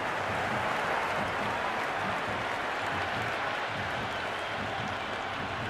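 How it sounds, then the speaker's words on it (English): A stadium crowd in the video game Cricket 26 roars and cheers in a steady, dense wash of applause and noise that stays loud and unbroken throughout, with no one talking over it. "It's almost palpable, the excitement emanating from this crowd at the moment."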